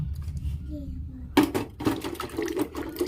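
Tap water starts running at a sink while potatoes are washed for a quail curry, a close, steady splashing stream that begins after a quieter low hum.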